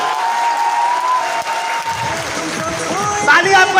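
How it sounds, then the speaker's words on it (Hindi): Hall audience at a motivational speech clapping loudly, dense applause building and swelling toward the end, with a voice speaking over it. "और जोरदार वाली तालियां।"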